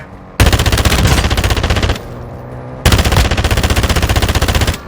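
Rapid automatic gunfire in Call of Duty Warzone 2.0, an assault rifle shooting at a car: two loud, dense bursts of fast shots split by a short pause, close and dominant with no talking.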